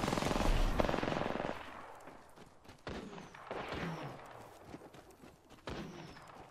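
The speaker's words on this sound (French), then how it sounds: "Je me fais tirer dessus." Rapid bursts of automatic gunfire in the Apex Legends battle royale, a loud volley at first, then scattered shots and softer hits, with no one speaking.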